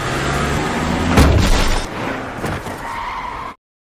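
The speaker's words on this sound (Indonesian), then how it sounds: "tiba-tiba sebuah mobil melaju dengan cepat dan menabraknya" A speeding car in a Japanese action film skids and slams into a person with a sudden heavy thump. Tire noise and rumbling debris follow before an abrupt cut to silence.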